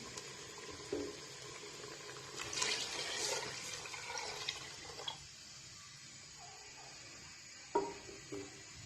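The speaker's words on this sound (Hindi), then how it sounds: "तो हम इसमें शामिल करते हैं पानी" Water pours into a pot of spicy chana dal pulao in one rushing, splashing burst that fades to a quieter trickle. A couple of light clinks follow, with no talking.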